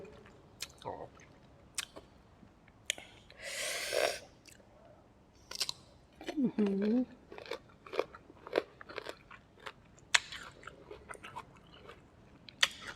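Crunchy fresh mango, served with sweet fish-sauce dip, is bitten and chewed close to the mic, making a run of sharp crisp crunches and wet chewing clicks with short pauses between bites.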